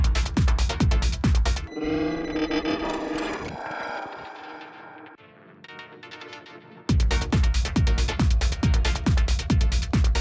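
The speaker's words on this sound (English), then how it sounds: "I created a bunch of psychedelic effects that sounds like this" A thumping techno beat drops out for swirling, warbling psychedelic synthetic effects that fade and thin, then the pounding beat returns.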